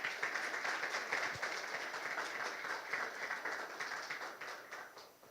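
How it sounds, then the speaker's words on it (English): Sustained applause from a conference audience at a medical IVF event, a dense even wash of many hands clapping at steady loudness and tapering slightly at the end. "may I invite Dr. Fisher to stand up so all of us can give a warm round of applause"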